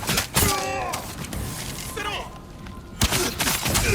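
A bomb exploding in the video game Ghost of Tsushima, several loud sharp blasts and thuds among combat noise, with a voice talking over the action.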